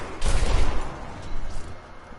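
Gunfire in the video game Control, a quick burst of shots followed by a second fainter burst a moment later, loud and close.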